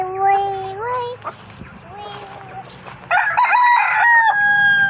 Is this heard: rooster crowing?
yes